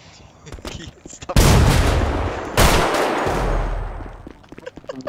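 Video game gunfire: two loud, harsh blasts ring out a second apart, each trailing into a long noisy decay, with voices talking briefly before and after.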